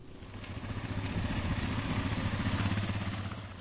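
A motorbike engine drones steadily on sandy tracks over rough terrain, its rumble swelling gradually and holding at a moderate level with a slight rattle throughout.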